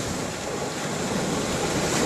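Wind and heavy drizzle at sea aboard a sailboat crossing the Atlantic, a dense, continuous hiss and roar of wind and spray, steady and close with no talking.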